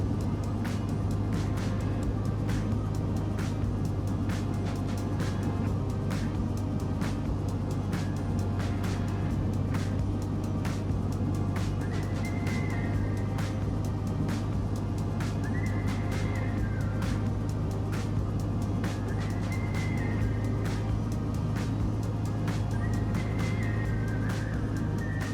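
Steady engine drone of an aircraft at throttle during a touch and go in Microsoft Flight Simulator 2020, a continuous low hum with a faint whine and light rattles, no talking.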